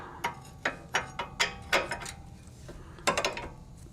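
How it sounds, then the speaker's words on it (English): A hand ratchet tightens a front lower control arm bolt on a BMW X5 4.4i E53, giving a series of crisp, close mechanical clicks in short bursts with brief pauses between strokes. "you'll notice I've repositioned my ratchet here"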